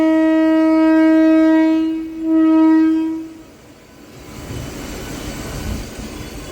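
A MEMU local train on the Bhimavaram–Machilipatnam line sounds a loud, sustained two-part horn, then settles into a low, rolling rumble of wheels on track as it runs between small halt stations.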